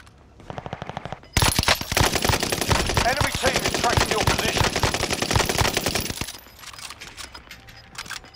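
Sustained automatic gunfire in Call of Duty: Warzone erupts loudly after a brief quieter burst, with dense rapid rounds continuing for several seconds before cutting off into quieter game ambience.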